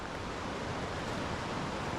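A river in the Yosemite backcountry rushes steadily, a dense, even roar of flowing water with no breaks and no voices.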